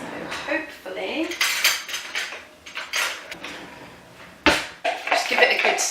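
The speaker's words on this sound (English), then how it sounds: "just give it a good stir" Rainbow cake batter is stirred in a bowl, a spoon scraping and clinking against the sides in uneven bursts, close and fairly loud, with a sharper knock near the end.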